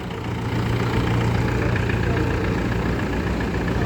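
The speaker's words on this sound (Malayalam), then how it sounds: "റൈറ്റ് മഞ്ഞ ട്രാക്ടർ കേട്ടോ." A yellow 2010-model tractor's diesel engine runs steadily at close range, a continuous low rumble that holds level throughout.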